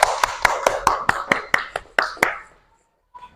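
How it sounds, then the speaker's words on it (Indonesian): Classroom group claps for student presenters in a biology lesson, about a dozen sharp, evenly spaced hand claps at close range that stop abruptly, followed by quiet. "Tepuk tangan untuk kelompok 1."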